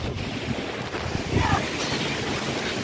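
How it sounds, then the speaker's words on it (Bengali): Strong wind from Cyclone Remal roars and buffets the microphone in a constant loud rush, rising briefly in a stronger gust midway, with no clear voices over it. "এখনও ভালোই মোটামুটি ঝড় হচ্ছে, জোরে হাওয়া আছে।"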